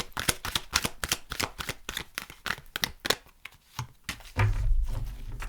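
Oracle and charm cards riffled and shuffled from a deck during a tarot-style reading: a quick run of crisp, close papery flutters and snaps, then a softer rustling tail at the end, with no talk.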